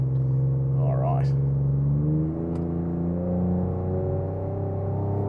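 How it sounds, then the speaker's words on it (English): A pickup truck's exhaust in sport mode drones steadily while the truck climbs under load, a deep, even engine tone rising slightly in pitch, heard from inside with a voice briefly over it. "Might as well stick it into sport mode for the exhaust as well so we can hear it."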